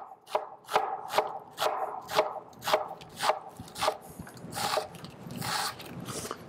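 A knife chops an onion finely on a cutting board for lasagna, in a steady series of about a dozen crisp, close strikes with no talking.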